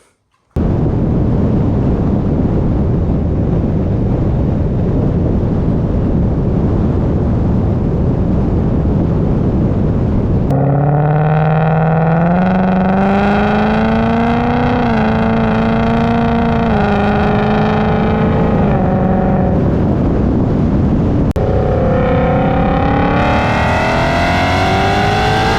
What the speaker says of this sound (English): we're just gonna go down a bumpy road and just compare the video